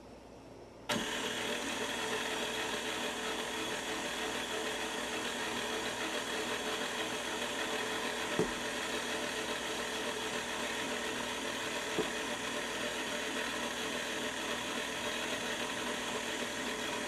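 An electric hand mixer runs steadily, blending flour into almond spritz cookie dough, a continuous motor whir at even loudness from start to finish with no talking.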